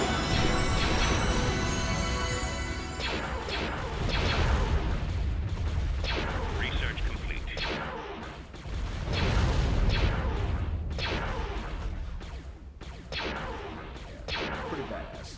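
Starship guns firing during a Star Wars space battle game, Republic versus Yuuzhan Vong, as a steady barrage of loud overlapping blasts and crashes over continuous battle noise.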